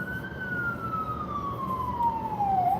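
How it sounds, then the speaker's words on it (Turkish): An ambulance siren wails through New York City traffic, a single long tone sliding slowly downward over a steady roar of street and engine noise, fairly distant rather than right alongside. "Ha bak ambulans geliyor abi."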